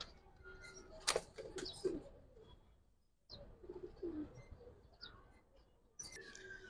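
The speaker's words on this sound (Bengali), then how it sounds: "এই যে একটা মাদি কবুতর" Pigeons of the Giribaz and Jabra breeds coo softly in short low bursts. Faint chirps and a brief wing flap fall in between, with no talk over the calls.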